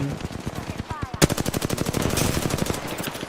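Rapid automatic gunfire in Apex Legends, a steady fast burst of loud shots running continuously after a brief pause, with players talking over it.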